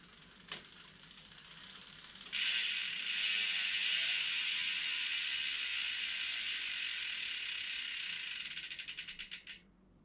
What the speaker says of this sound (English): just the hub, probably the most favorite thing about this bike